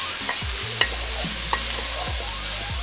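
Capsicum and garlic stirred in a hot frying pan for a fish dish in spicy garlic sauce, a steady sizzle broken by a few sharp scrapes and taps of the utensil, close and alone with no voices.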